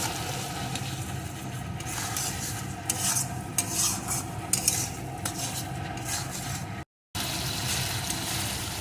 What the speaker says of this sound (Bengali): এখন সব কিছুকে সুন্দর করে কষিয়ে নেব